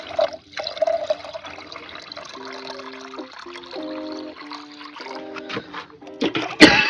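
Water poured into a plumbing P-trap under an Indian basin gurgles and trickles in uneven bursts, with bubbling tones as it fills and a sharper splash at the end.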